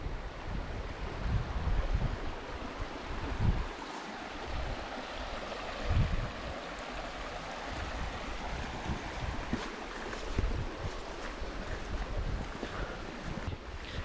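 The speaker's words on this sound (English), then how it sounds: "this is that same creek." A creek runs through a remote Australian valley, a continuous broad rushing wash of water with gusts of wind buffeting the microphone, no one speaking.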